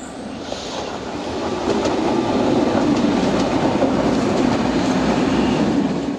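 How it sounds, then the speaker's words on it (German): A diesel railcar rolls out of the Döckinger tunnel on the Höllentalbahn in the Black Forest. It gives a steady, loud rail rumble with rhythmic wheel clatter that builds as the train draws near. "Gleichzeitig erscheint gegenüber aus dem Döckinger Tunnel der Dieseltriebwagen aus"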